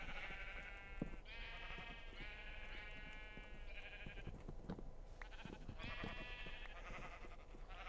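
Sheep bleating in the video game Minecraft, repeated wavering bleats from several animals at moderate distance over low background clicks and footsteps, with no talk.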